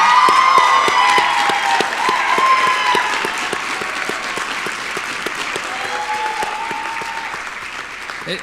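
Graduation crowd at a winter commencement STEM ceremony applauds and cheers loudly after graduates move their tassels, dense clapping with whoops that slowly eases but stays steady throughout.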